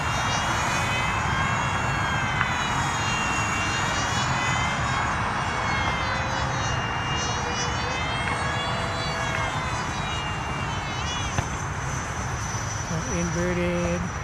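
A Freewing B-2 RC model jet making a pass at a flying field, its ducted-fan engine a steady whine that holds loud through the whole stretch, with people talking over it.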